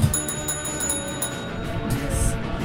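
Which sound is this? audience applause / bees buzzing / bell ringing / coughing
bell ringing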